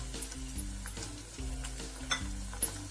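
Tomatoes sizzle in a pan with onions already fried to golden, a steady fry with soft stirring scrapes and an occasional light clink of a utensil.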